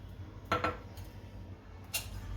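A metal tava is set down on a lit gas stove, making two quick close metallic clanks followed by a lighter clink a moment later, all fairly quiet.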